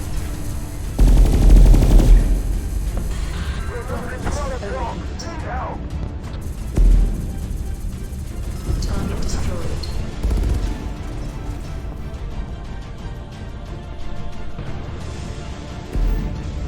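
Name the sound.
gunfire from enemies shooting at the player in video game SpaceBourne 2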